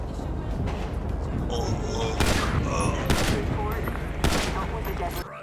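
Gunfire from Grand Theft Auto V rings out in loud, sharp bursts over a continuous game soundscape, with several heavy shots punching through a busy background.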